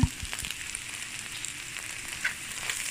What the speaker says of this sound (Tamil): அதை வறுத்து வெளியில் எடுப்போம்